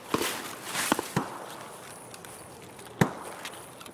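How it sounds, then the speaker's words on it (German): Footsteps in the video game Escape From Tarkov, on the Customs map: a few faint, sparse thuds spread over a few seconds, with one sharper step near the end over a quiet hiss. "ich habe Steps gehört"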